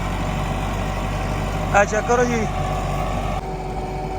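A tractor idles steadily with a low, continuous engine drone while pulling a Super Seeder for wheat sowing, with a brief voice speaking over it midway.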